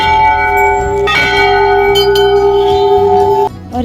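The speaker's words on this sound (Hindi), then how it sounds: "यहाँ पे इतनी सारी घंटियाँ हैं" Many metal bells at Golu Devta temple in Almora ring together, loud and close, with sustained overlapping tones and fresh strikes sounding in layers before the ringing cuts off.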